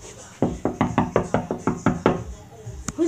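A fast run of about nine loud, close knocks on a door in a steady rhythm, followed by a pause and one sharp final knock, with faint vocal sounds at the end.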